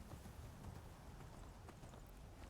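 Horse hooves in the video game Skyrim clip-clop steadily at a walk, soft and somewhat distant under a thick wash of steady ambient noise.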